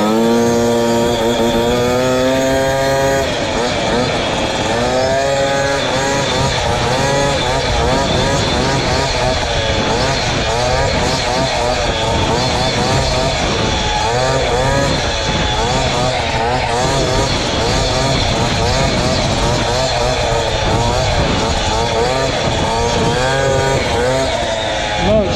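A powerful motorcycle engine roars loudly throughout a ride, revving up through rising and falling gear pitches with a constant heavy drone close to the rider, no talking.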